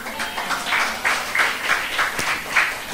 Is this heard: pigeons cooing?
no